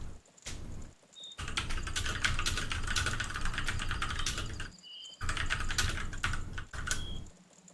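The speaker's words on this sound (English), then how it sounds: "You want some mechanical keyboard ASMR?" Rapid clattering keystrokes on a mechanical keyboard, loud and close, typed in bursts separated by short pauses, with a few faint electronic chirps between bursts and no talking.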